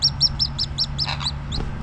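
Young chicks chirp in a quick, evenly spaced series of high, thin peeps, close and fairly loud over a low background hum.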